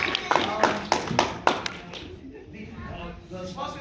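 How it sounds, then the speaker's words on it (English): Applause from a museum audience at a dinosaur museum, a handful of sharp claps at first that fade into scattered patter, with speech over the clapping. "Give a round of applause"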